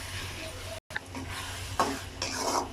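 Tomatoes for a Tamil fish curry being stirred in a pan, soft scraping and low sizzling with a brief gap, then a couple of louder stirring scrapes near the end.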